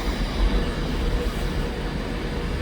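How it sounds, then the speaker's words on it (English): A Pendolino electric train arrives at platform 12 of Crewe station, producing a loud, steady rumble and roar of wheels and motors close by. There is no clear speech over it. "I've never seen a Pendolino go onto platform 12 before"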